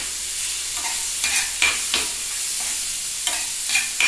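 Onion, tomato, chopped garlic, ginger and spices frying in a pan, a continuous sizzle broken by several sharp scraping stirs of a spatula, close and without talk.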